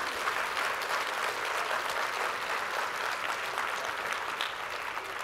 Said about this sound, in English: clap louder, because that's a really important